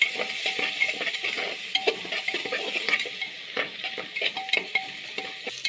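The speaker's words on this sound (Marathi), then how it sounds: "टोमॅटो छान परतून घ्यायचा" Onion and tomato for an egg biryani sautéing in a pan, with a steady soft sizzle under repeated scraping strokes of a spoon or spatula stirring close by; no talking.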